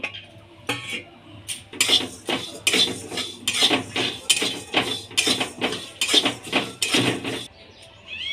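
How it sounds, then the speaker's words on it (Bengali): Moong dal being dry roasted in a wok, with repeated scraping and clinking strokes of a spatula against the metal pan in a steady rhythm, close and moderately loud. "প্রথমে আমি কড়াই বসিয়ে মুগ ডালটাকে ভেজে নেব"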